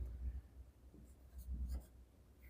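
Pen scratching out a math equation by hand on paper, faint and close, with short soft strokes in uneven bursts.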